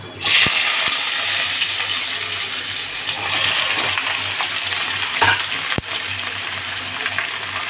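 Chopped vegetables hit hot oil with a loud sizzle, then a sustained frying hiss continues with a few sharp metallic clinks from stirring, close and without speech.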